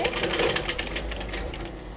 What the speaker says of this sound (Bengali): এখানে একটু ডাবল করে সেলাই করে দিতে হবে